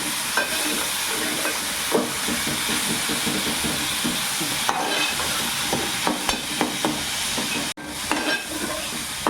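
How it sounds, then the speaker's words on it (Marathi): Onion paste frying in a pan while being stirred for a prawn biryani: a steady, loud sizzling hiss with scraping stirring strokes throughout and a brief dip near the end. "ही कांदा पेस्ट टाकली कांदा पेस्ट जर आपण शिजून घेऊ"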